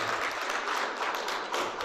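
Light, brief clapping from a small audience at a commissioning ceremony for RCIP projects in Ankole Sub-Region, fairly faint and over within a couple of seconds.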